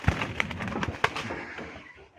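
Two Rajshahi Giribaz pigeons give soft, low coos at close range, with a few short calls and light rustling in a quiet pen.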